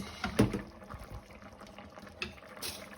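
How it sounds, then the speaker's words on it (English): Black beans simmering in a pot of stock, giving soft, faint bubbling and gurgling with a few louder pops and clicks near the start and end, close by and with no talk. "Bubbling away."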